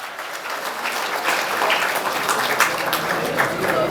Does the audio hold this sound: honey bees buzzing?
no